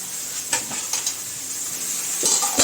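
Food fries in a pan with a steady, bright sizzle, broken by a few sharp clinks and scrapes of a utensil stirring against the metal.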